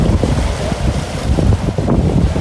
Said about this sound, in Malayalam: വെള്ളത്തിന് നല്ല തിരയുണ്ട്,